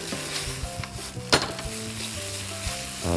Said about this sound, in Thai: ถ้าเราน้ำมันเราพอดีความร้อนเราพอดีเราจะผัดเครื่องแกงให้หอม